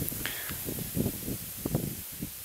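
Wind sweeps through a field of spring wheat, variety Trizo, giving a steady hiss broken by soft, uneven bursts of rustling stalks close by.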